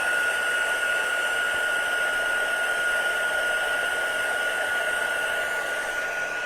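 A hair dryer blows steadily at close range, drying wet paper flowers painted with liquid watercolours, a constant loud whirring hum with no talk.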